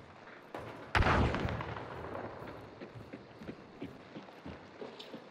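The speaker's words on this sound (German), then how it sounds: "Der Schuss ist hier oben am Fenster gewesen." A sharp, booming gunshot cracks out loudly in the video game Hunt: Showdown, followed by a lingering rumble and scattered faint clicks and thuds in the background.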